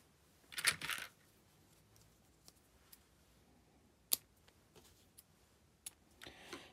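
Scissors snip off the excess tie from a square knot on a journal cover made from a vintage quilt. A short cluster of soft cutting sounds is followed by a few faint, isolated clicks in an otherwise quiet room.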